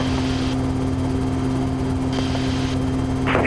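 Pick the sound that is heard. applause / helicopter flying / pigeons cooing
helicopter flying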